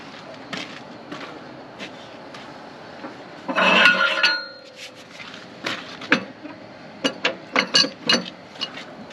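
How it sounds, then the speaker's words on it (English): A winch lowers the boom on a Holmes 750 wrecker truck, giving irregular mechanical clicks and ratcheting knocks, with one louder grinding clatter partway through and a quicker run of clanks near the end, close and moderately loud. "let's winch it down first"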